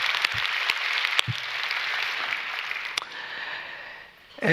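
A church congregation claps in thanks during a worship service, giving steady, moderately loud applause throughout the short stretch before it tapers off near the end.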